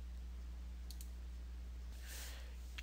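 Computer mouse clicks during image editing in GIMP 2.6: a couple of faint, quick clicks close together over a steady low hum, with no talk.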